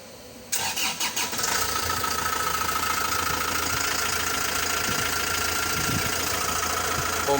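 An Isuzu Travis engine, fitted with a newly replaced air-conditioning compressor and condenser, cranks briefly and catches, then settles into a loud, steady idle heard up close with a constant mechanical rumble and whine.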